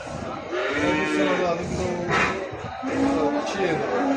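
Male calves at the Mashtaga livestock market moo loudly and close by, a few long drawn-out lowing calls one after another, with the murmur of the market crowd behind them.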